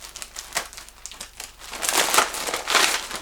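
A heavily taped-up Christmas present being unwrapped, heard up close as bursts of crinkling and tearing paper and tape that grow louder and denser toward the end, with no talking.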